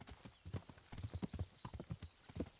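Rhythmic clip-clop of horse hooves trotting steadily in the video game Kingdom Come: Deliverance, quiet and close, with a faint high tone drifting above.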